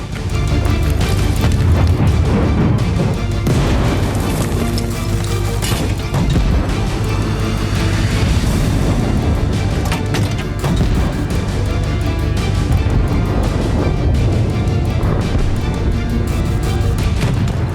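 Katyusha rockets fired by Hezbollah toward northern Israel roar in a dense, continuous rumble with rapid overlapping launches and booms, loud and unbroken throughout.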